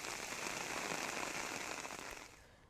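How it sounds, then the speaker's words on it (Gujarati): Heavy rain with thunder pours down steadily in a dense, continuous hiss over Abdasa taluka, Kutch, Gujarat, loud and close, easing off slightly at the very end. "તો કચ્છના અબડાસા તાલુકામાં ગાજવીજ સાથે ભારે વરસાદ પડ્યો"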